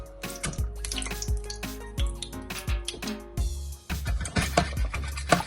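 Coconut milk pours and drips into a pot for a Jamaican salt mackerel rundown, giving an irregular run of close, wet splashes and drips with no talking.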